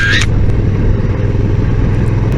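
A 2022 Honda NT1100 DCT twin-cylinder motorcycle hums steadily while riding, a continuous low engine drone mixed with road and wind noise, after a brief higher-pitched sound at the start.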